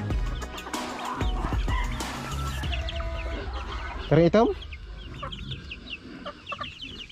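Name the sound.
chickens clucking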